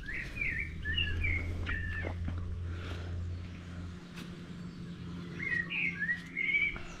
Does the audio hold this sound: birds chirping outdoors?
yes